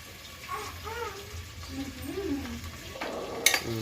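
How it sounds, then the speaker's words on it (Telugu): Onions frying in hot oil with green chillies and curry leaves for a Sunday curry, a low continuous sizzle with spoon stirring and a sharp metallic clink near the end, while a person talks over it. "ఆనియన్స్ వేగినాయమ్మా"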